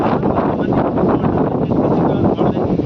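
Strong cyclone wind roars continuously and loud into the microphone at a coastal shelter area where boats are moored, a dense unbroken rushing with buffeting gusts.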